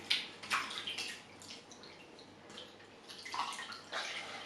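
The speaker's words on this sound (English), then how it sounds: "I'll just go ahead and rinse my fingers to wash them" Water from a tap runs over fingers being rinsed, close splashing bursts rising and falling in irregular waves against a quiet background, with no talking.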